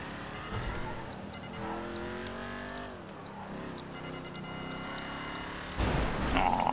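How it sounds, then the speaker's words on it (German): An engine revs hard and rises in pitch as a car in GTA Online is driven in at full throttle, steady and fairly close, ending in a louder rough burst of noise, with no one talking. "Fahr doch nicht mehr mit Vollgas rein"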